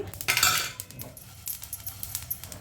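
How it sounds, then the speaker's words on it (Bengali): Nigella seeds are stirred in a hot pan with a metal utensil, giving clinking scrapes and taps against the pan over a faint background, close and fairly quiet. "জাস্ট কালো জিরা থেকে ভালো গন্ধ বের হওয়া পর্যন্তই আর কি আমি নাড়াচাড়া করে নিচ্ছি"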